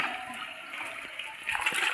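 Sea water at high tide splashes and sloshes steadily, a broad watery wash that surges louder near the end, with faint voices in the background.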